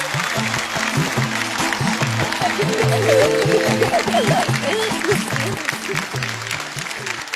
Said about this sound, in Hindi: वो सर के लिए और जोर से तालियां प्लीज।